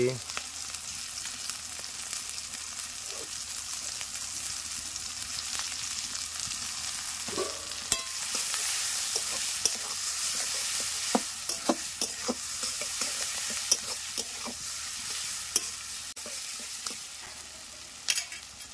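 Chopped onion and green chilli fry in a pan for an Indian chicken curry, a constant close sizzle with scattered scraping knocks of a spatula as the pieces are stirred.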